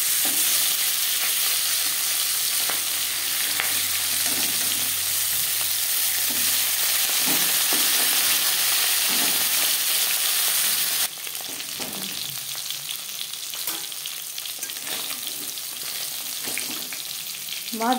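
Fish pieces coated in salt and turmeric fry in hot refined oil, giving a steady close crackling sizzle for the whole stretch, with scattered spatter pops. It drops a little in level partway through.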